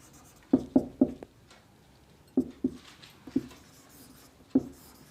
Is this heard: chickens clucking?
no